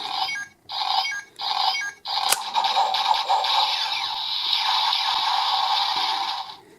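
A Kamen Rider Gaim DX Sonic Arrow toy bow fires its strong attack sound from a tinny electronic speaker: three quick bright bursts, a sharp click, then a long sustained electronic effect lasting several seconds before stopping.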